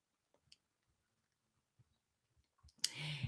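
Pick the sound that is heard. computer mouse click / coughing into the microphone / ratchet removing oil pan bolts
computer mouse click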